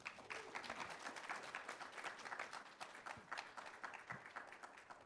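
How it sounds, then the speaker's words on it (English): A crowd applauds steadily, dense clapping from many hands filling the room with a sustained, even rattle. "Another round of applause."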